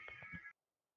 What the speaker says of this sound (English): Your cat's trying to boss you about again, Fox.